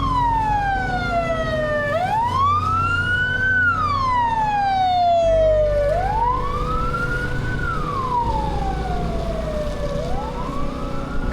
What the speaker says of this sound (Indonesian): Ada ambulan, tunggu lewat saja.